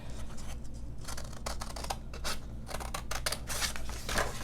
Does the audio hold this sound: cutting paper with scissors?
yes